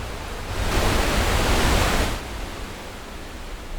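A waterfall roars as a steady wash of rushing water that swells louder for a couple of seconds and then settles back to a constant hiss.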